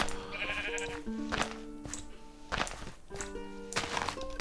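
Minecraft sheep bleating in several short, wavering calls spread across a few seconds, fairly close, with faint game footsteps and thunks between them and no one talking.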